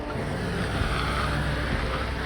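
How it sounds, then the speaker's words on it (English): A Mercedes-Benz S-Class V8 engine runs smooth and steady, a low continuous rumble with road and wind noise and no speech over it. "This V8 engine, oof, so smooth"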